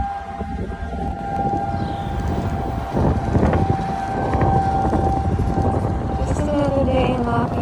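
A tornado warning siren sounds outdoors in Lafayette, Indiana, its steady tone held over wind noise and rumbling background, fairly loud and continuous with a rising pitch near the end.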